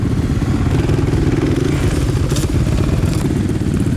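A loud, near dirt bike engine, a Honda CRF 250R or Yamaha YZ250 at an off-road riding resort, runs with a steady rattling, throbbing idle and a slight rise in revs partway through.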